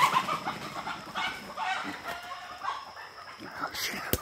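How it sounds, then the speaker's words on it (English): Chickens cluck in a Hawaiian outdoor setting, a busy run of short clucks and squawks close by, fairly loud and mixed with rustling. "Goddamn chickens."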